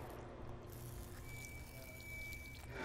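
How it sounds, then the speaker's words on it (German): Liquefied clay mixture poured into formwork for test samples at a building site, giving a steady watery pouring and splashing sound that runs throughout. "Hier wird die verflüssigte Lehmmischung in eine Verschalung gegossen."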